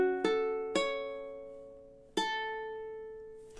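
Solo ukulele playing the second measure of a song for a Halloween tutorial: three plucked chord strums spaced unevenly, each ringing and decaying, close and clear with no talking.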